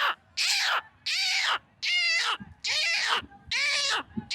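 A human voice imitates a chicken being carried off by a fox, with five frantic, squawking cries in quick succession, each broken by brief gaps.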